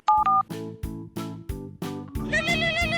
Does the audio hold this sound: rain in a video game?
no